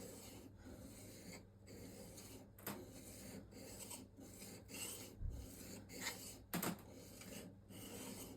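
The bevel of a Juuma No 4 bench plane blade is rubbed back and forth on a fine sharpening stone, making a steady rhythmic rasping scrape in repeated strokes, close and quiet, with no talking.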